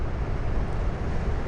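Air conditioning unit fan running on high in a podcast studio, a steady, loud, broadband rushing whoosh with low rumble, continuous and unbroken with no talk.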